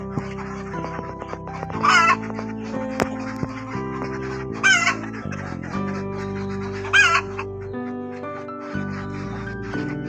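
Pet chickens and roosters kept in a backyard, clucking steadily at close range with a few louder calls standing out, over a continuous background tone.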